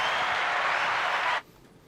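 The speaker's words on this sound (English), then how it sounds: "We have a round of applause for" Audience applause during a podcast-style conversation, a steady broadband wash that cuts off abruptly near the end, leaving near silence.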